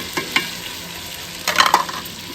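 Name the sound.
tomatoes and chillies added to a hot cooking pot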